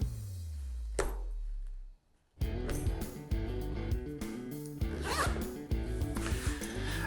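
Zipper with a built-in metal snap frame on a Lockjaw Riggers tool bag: a long zip drawn open, a short pause, then a run of quick rasping zip pulls and clicks, close and crisp.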